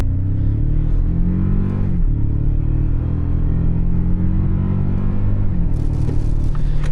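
A Toyota Tacoma TRD Off Road, a fourth-generation turbo pickup, drives with a steady low engine rumble heard from inside the cab. Its pitch rises and falls as the truck accelerates.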